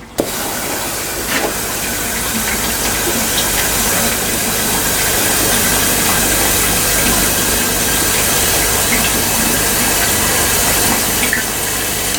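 Water rushes steadily from an expanding garden hose in a strong, continuous spray, loud and close, holding an even hiss throughout with no talking.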